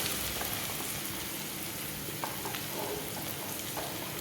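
Chopped onion and green chillies fry in hot oil in a pan, giving a steady, dense sizzle throughout with a few faint stirring clicks and pops.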